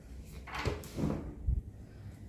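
A home door being opened gives a few soft knocks and a sliding rub, quiet and close by, with no voices.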